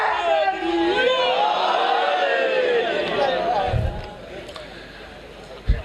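A crowd at a religious majlis gathering chants slogans together, a loud sustained roar of many voices that fades toward the end.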